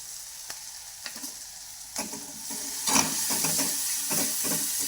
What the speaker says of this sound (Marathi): लाल तिखट आहे ना थोडंसं टाकायचं कलरसाठी थोडेसे तीळ टाकून द्यायचे